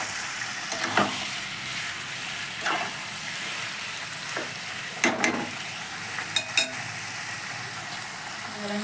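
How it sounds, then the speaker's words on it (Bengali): Chicken fries in a pan for tehari, with a continuous hiss of sizzling broken by scattered scrapes and clinks of a utensil stirring against the pan. "চিকেনটা দিয়ে 1 মিনিট মতো একটু ভালো করে নেড়ে নেব"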